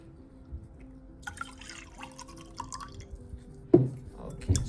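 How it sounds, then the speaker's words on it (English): Liquid African black soap is poured into a foaming face wash mixture, making a few wet drips and splashes that grow more noticeable toward the end. A person talks quietly over the start of the pour. "the last thing that I'm gonna add is my liquid black soap"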